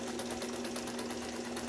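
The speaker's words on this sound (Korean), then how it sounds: "이렇게 부드럽게 재봉틀이 나가야 정상적으로 되는 거죠" A repaired Brother 4010 home sewing machine runs smoothly, with a steady motor hum and rapid, even ticking of the needle mechanism, close and alone.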